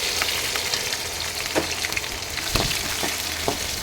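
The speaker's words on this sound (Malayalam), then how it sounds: "സവാള ചെറുതായി അരിഞ്ഞതും കറിവേപ്പിലയും ഇട്ട് കൊടുക്കാം." Chopped onion and curry leaves hit hot oil after mustard seeds have popped, giving a constant close sizzle with scattered crackles and a few sharper spits, and no voices.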